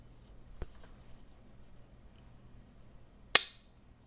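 Two sharp metallic snaps from a RoseCraft Sequatchie River Muskrat traditional pocket knife blade, a small one followed seconds later by a louder crisp click, close up in an otherwise quiet room.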